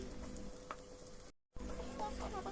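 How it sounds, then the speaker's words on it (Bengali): Two cloves of chopped garlic and a medium chopped onion fry in a pan with a faint, steady sizzle, briefly cut to silence midway before the crackle resumes. "এবার ভালো করে এগুলোকে একটু ভেজে নিচ্ছি"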